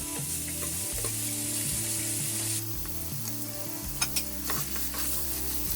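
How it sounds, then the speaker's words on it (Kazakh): Chopped meat fries over high heat in oil in a pan, a continuous close sizzle with a couple of sharp clicks from stirring, accompanied by a low, steady tonal background. "Табаға кішкене майымызды тағы да қыздырып құйып, үстінен туралған етімізді салып, қатты отта суы кеткенге дейін қызартып"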